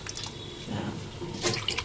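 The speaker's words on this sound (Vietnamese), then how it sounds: "sau khi mà các bạn đã ngâm thịt được 10 phút như thế này rồi thì các bạn sẽ rửa sạch" Running tap water rinses soaked pork belly in a kitchen sink, a steady splashing stream with brief louder spatters near the end, no voices.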